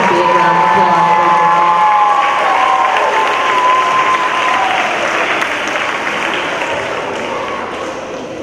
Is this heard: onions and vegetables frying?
no